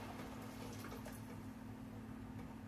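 Water poured out of a glass canning jar into a kitchen sink, a steady close splashing wash of liquid with no talk over it.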